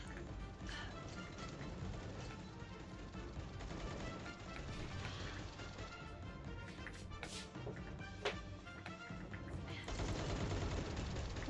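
Video game gunfire aimed at the player, with continuous rattling shots and scattered sharp cracks over a dense layer of game noise, running steadily throughout.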